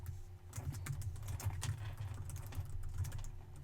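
Computer keyboard typing continues as a dense, steady patter of key clicks over a low hum, close by, with no one talking.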